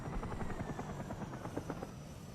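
A video game helicopter passes close by, its rotor making a rapid, loud chop over a low engine hum for a couple of seconds.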